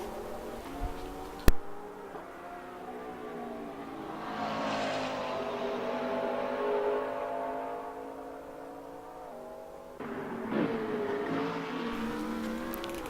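A GT3 race car engine in a sim racing game revs and shifts through a chicane at Barcelona, a steady droning note swelling and falling, with a sharp tick early on and a fresh burst of throttle near the end.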